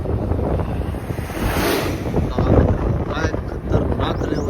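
Sea waves at Alibag wash and surge continuously, with strong wind buffeting the microphone throughout.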